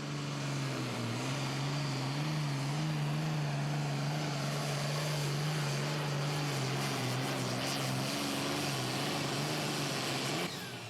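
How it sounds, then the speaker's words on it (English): A Super Farm class pulling tractor at an outdoor tractor pull in Franklin, Kentucky, its engine droning loud and steady at low revs with a slight rise in pitch, continuous for about ten seconds before cutting off abruptly. "We're going to kick it all off with the Super Farm tractors"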